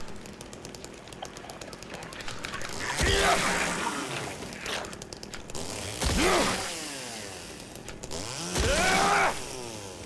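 Chainsaw revving in the Silent Hill 2 Remake video game, rising and falling whining engine bursts repeating several times over mechanical game noise, fairly loud.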